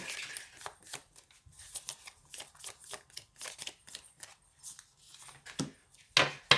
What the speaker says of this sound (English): I have a cat that's in here playing with some hand sanitizer.